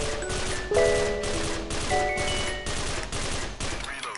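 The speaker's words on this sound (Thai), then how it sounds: "ต่อไปเป็นการเล็ง burst fire นะฮะ" A Scar-H rifle in the video game Special Force 2 fires in burst mode: loud, close, rapid bursts repeat at a steady rhythm about every half second, with no talking.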